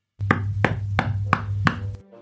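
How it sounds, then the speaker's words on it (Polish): Five loud, evenly spaced knocks on a wall, each a sharp thud over a low steady hum that cuts out at the end. "jej wypowiedź przerwało bardzo głośne pukanie w ścianę"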